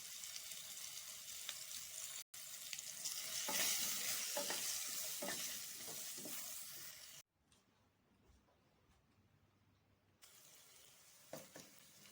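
Potatoes frying in hot oil for a Bengali fish curry, giving a dense, close sizzle with stirring scrapes. The sizzle drops to a much quieter stretch partway through, then returns, and no one speaks.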